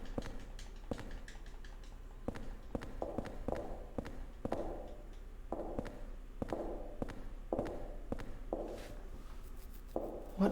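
Footsteps in the horror video game Silent Hill 4: The Room, a slow, regular series of hard thuds on a floor, close and alone over a faint ambient hum.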